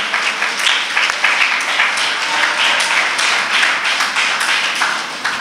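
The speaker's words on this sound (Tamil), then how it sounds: "ஒரு கைத்தட்டி ஆண்டவருக்கு நன்றி சொல்லுங்க" A church congregation claps hands together during a Tamil Sunday service, a loud, brisk stream of many overlapping claps that keeps up steadily throughout.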